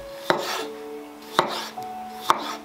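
Three distinct knife chops cut through tomatoes on a board, spaced about a second apart, sharp and close with a quiet tonal hum in between.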